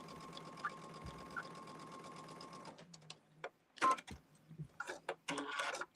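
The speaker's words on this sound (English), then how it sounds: "I'm going to sew down the middle." A sewing machine stitches steadily down the middle of a quilt block, a dense continuous whir for nearly three seconds, then stops, followed by a few scattered handling clicks and bumps.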